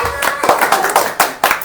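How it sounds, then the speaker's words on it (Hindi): Church congregation clapping hands together, a brisk run of sharp, close claps in an uneven rhythm with a voice speaking over them. "ताली किस लिए बजा रहे हैं?"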